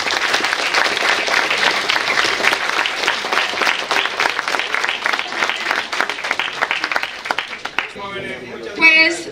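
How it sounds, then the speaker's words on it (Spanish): Loud, sustained applause from an audience at a student panel discussion on Gaza, dense clapping filling most of the stretch before fading as a voice begins speaking near the end. "un fuerte y caluroso aplauso"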